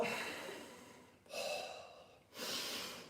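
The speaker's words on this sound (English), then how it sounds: "Then breathing out again." Forceful breaths out through the nose and mouth during kung fu tiger bag training, three long airy exhalations in a row, close and moderately loud, with no talking.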